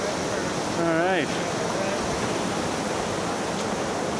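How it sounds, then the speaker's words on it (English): A waterfall on a wilderness canoe route rushes in a constant, loud broadband roar that fills the whole stretch, with a brief voice-like whistle near the start. "See that waterfall?"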